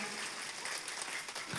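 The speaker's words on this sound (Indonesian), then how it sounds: "Sepisan maning tepuk tangan dulu buat panitia Bantar Dawa" Crowd clapping steadily for the Bantar Dawa village committee at an outdoor community gathering in Purwadadi, Ciamis, a dense, continuous patter of many hands throughout.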